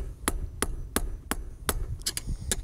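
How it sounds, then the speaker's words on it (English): Sharp metallic hammer blows on a screwdriver knock out a plug while installing a tunnel skylight, about nine knocks in a steady rhythm, close and distinct over a low background hum. "we need to take a screwdriver and a hammer and knock out this plug down here."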